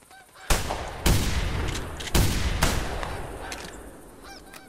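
Shotgun blasts ring out at geese in a hunting video game: several loud, sharp shots in quick pairs, each with a long decaying echo, while geese honk faintly in the background.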